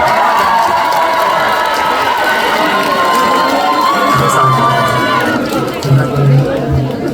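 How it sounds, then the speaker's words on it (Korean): A large crowd at an outdoor concert festival in Okcheon, South Korea, cheers and shouts loudly, with a lively mix of voices and some clapping, continuous and close. "큰 박수 한번 주시겠어요?"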